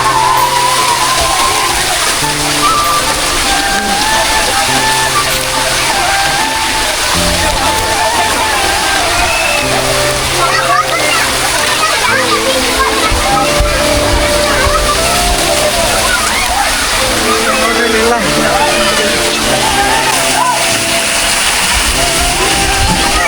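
Water rushing and splashing at Almatti Water Park, a loud continuous churning wash of released water with crowd voices and people talking mixed throughout.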